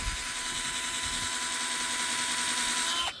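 Cordless screwdriver grinding a drill bit into a steel rail, a steady high whine with a constant tone that runs alone throughout and then cuts off abruptly at the end.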